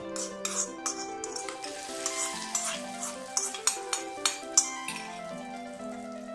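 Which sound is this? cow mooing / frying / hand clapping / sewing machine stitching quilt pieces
frying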